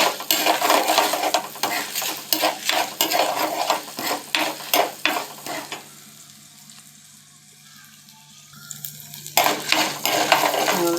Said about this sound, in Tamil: மல்லி போட்டு நல்லா வதக்கிடுவோம். 6 வரமிளகா போட்டுக்கலாம். அதையும் நல்லா வதக்கலாம்.